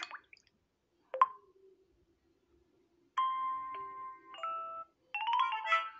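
Several short electronic notification tones from a Vivo Y1s phone sound alone: a brief blip, a ding, then a longer multi-note melodic chime and a final bright jingle.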